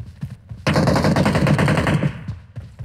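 Rapid automatic gunfire in PUBG Mobile, a loud sustained burst of shots lasting over a second amid squad combat, with scattered quieter shots before and after and no talk over it.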